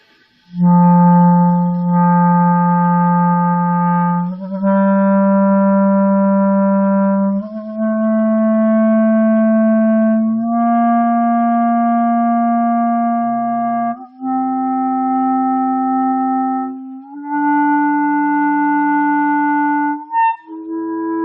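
A low G and the notes above it, played slowly on a woodwind instrument with very small finger movements. Each pitch is held for a long, steady stretch before the next one, and the tone is loud and close with no talking.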